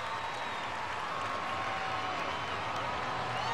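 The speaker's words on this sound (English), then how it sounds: "Listen to this crowd." A big arena crowd roars and cheers steadily at a Monster Jam monster truck event in Atlanta, a dense, constant wash of noise with scattered whistles.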